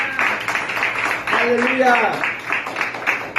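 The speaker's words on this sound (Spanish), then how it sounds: "Dale otro fuerte aplauso al Señor." A church congregation claps in a rapid, continuous patter while a voice calls out loudly over the applause.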